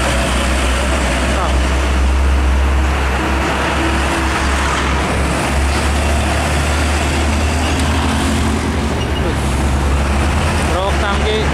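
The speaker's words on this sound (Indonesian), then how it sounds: "Truk tangki" A heavy tanker truck rumbles past close by on an Indonesian highway, with loud, steady engine and road noise throughout and a voice speaking Indonesian over it.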